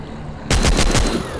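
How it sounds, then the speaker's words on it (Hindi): Rapid machine-gun bursts from a mobile zombie shooter game, a loud sustained volley of fast repeated shots starting abruptly after a short quiet lead-in. "अभी मशीन गन मिल गया भाई। अब इसे दया दन मारेंगे, चीन चीन के मारेंगे।"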